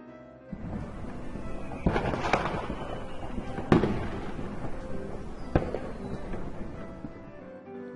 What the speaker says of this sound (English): heard the sound of fireworks exploding